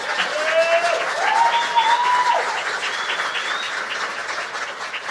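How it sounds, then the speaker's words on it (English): An audience claps steadily for a woman named Jan, a warm continuous patter of applause in an indoor gathering, with a few whoops and cheers rising above it. "And we should all just clap real quick for Jan."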